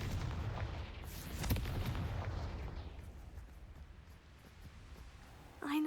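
Confringo blasting spell in Hogwarts Legacy exploding with a deep rumbling boom, a sharp burst near the middle, then a fading low roar and a brief rising magical whine at the end.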